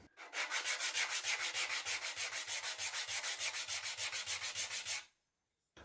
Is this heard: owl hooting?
no